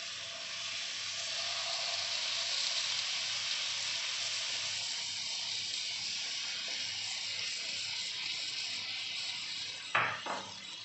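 Chicken leg pieces for kalmi kabab sizzle in a pan with a spoonful of oil over medium heat, a steady close hiss throughout with a brief clatter of the pan near the end.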